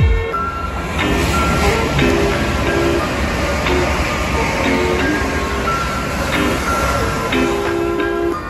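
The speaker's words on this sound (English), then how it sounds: "Here we have an Intercity 225." An Intercity 225 passenger train passes near an industrial district, a steady loud rumble with faint rail clatter and tonal hum lasting throughout, no voices.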